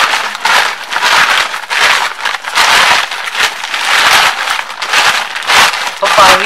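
A plastic sack is folded over for planting, giving a steady stream of loud, close crinkling and crackling in repeated bursts as the material is handled and creased.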